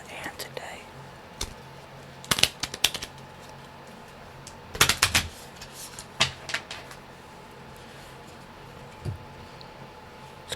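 Promo cards are handled close to the mic for ASMR, giving soft scrapes and sharper clustered taps and clicks in irregular bursts, with quiet whispering between them.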